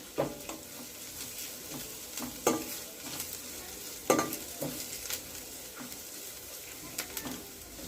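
Asafoetida and a dried red chilli frying in a pan for tomato rasam, a steady soft sizzle with several sharp scraping stirs of a spoon, close and moderately loud, no voices.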